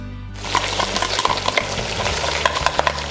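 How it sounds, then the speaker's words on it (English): About ten unpeeled garlic cloves frying in hot oil for a Hokkien mee stock, a loud steady sizzle with crackling pops and the scrape of stirring throughout. "now we fry until the garlic is nice and aromatic"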